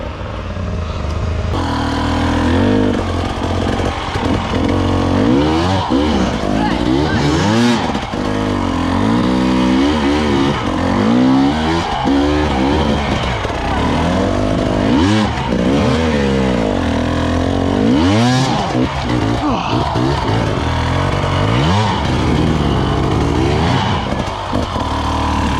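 A pro enduro dirt bike at the 2021 Iowa Hard Enduro revs hard on rocks, its engine rising and falling loudly and continuously as it struggles for grip.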